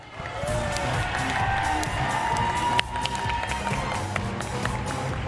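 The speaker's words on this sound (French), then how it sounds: "Sous vos applaudissements, mesdames et messieurs" A crowd at the Just Dance French Cup 2019 cheers and applauds as a semi-finalist dancer is welcomed onstage, steady dense noise with shouts and a sharp bang near the middle, loud throughout.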